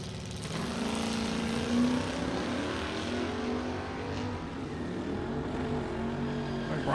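A 1978 Pacer and a 1988 Camaro launch down a drag strip, their engines a loud, sustained roar that holds steady and rises slightly as the two cars run side by side, with no talk.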